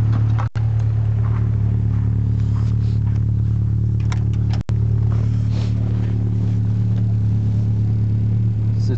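A Volkswagen GTI 16-valve engine idles steadily, a loud, even low hum with a constant throb and no revving, interrupted by two brief clicks.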